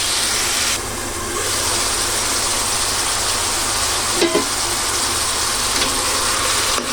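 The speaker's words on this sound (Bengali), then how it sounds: "একটু সবজিটা কষিয়ে নিই" Chopped snake gourd sautés in a pan on the way to a pabda fish curry, giving a steady, close sizzling hiss throughout with one brief stirring knock partway through.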